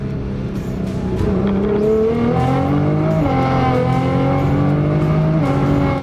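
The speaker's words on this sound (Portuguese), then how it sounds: "Dá pra ouvir a embreagem patinando aqui." A Nissan GT-R engine revs steadily under load with a slipping clutch, its rising and wavering tone loud and close and holding on for several seconds with no talk over it.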